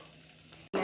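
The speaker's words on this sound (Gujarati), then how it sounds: "તો હવે તેમાં આપણે 2 નંગ ઝીણી સમારેલી ડુંગળી નાખી દઈશું।" Finely chopped onions, two of them, drop into hot tempering oil with bay leaf for restaurant-style dal tadka, a low steady sizzle that breaks off briefly and then surges into a loud, bright burst of frying.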